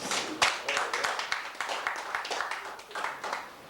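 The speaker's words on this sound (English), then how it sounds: "Please give him a big round of applause." Audience applause for Professor Mundy-Castle at a Lagos celebration event, a sustained patter of hand claps with uneven bursts, moderately loud throughout.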